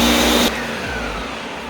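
A Ninja blender runs at full power pureeing pumpkin, a loud steady motor roar that drops to a lower, softer whirring after about half a second and carries on evenly.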